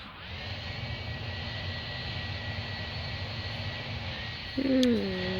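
Steady airplane engine drone from a Roblox Project Flight game during takeoff, a continuous hum with a sharp tonal whistle rising near the end, no talking.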